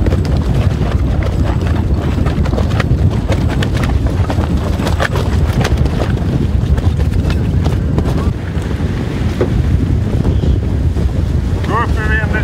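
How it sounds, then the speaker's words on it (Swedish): Strong wind buffets and roars across the microphone at sea in the Gulf of Bothnia, with water sloshing against a hull and creaking of a sailboat underneath. "Nu får vi lite vind här i Bottenviken."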